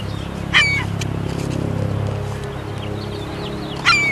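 Seagulls being fed at Sugarhouse Park, giving two short squealing calls spaced a few seconds apart over a steady low hum of background noise.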